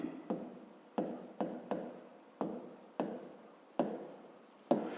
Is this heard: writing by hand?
yes